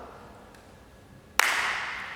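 A single sharp hand clap rings out during aikido practice in a quiet room, followed by a brief lingering echo.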